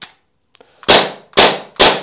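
A KSC AUTO-9C airsoft pistol, a RoboCop replica with a plastic slide, fires three loud, sharp snapping shots in quick succession, each with a short decay, after a few faint mechanical clicks.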